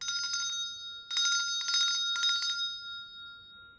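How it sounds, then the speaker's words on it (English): A bright bicycle bell rings in quick trills, a short burst, then three more rapid rings, clear and close with no talking. "they heard the sound of a bell"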